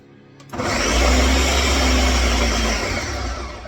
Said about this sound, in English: Uh-oh, I think my blender's going out.